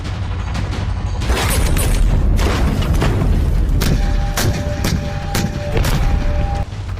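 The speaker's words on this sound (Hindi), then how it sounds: "आग उगलती तोपें और दुश्मन के दांत खट्टे कर देने वाली ताकत का प्रदर्शन।" Indian Army artillery guns fire during the Teesta Prahar exercise, with repeated heavy booms and sharp blasts over a dense, loud rumble and a faint tonal hum in the middle.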